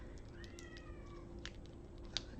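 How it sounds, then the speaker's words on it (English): A house cat gives a faint, short meow in a quiet room with a steady background hiss, somewhere off from the microphone, with no talking. "there goes my cat again"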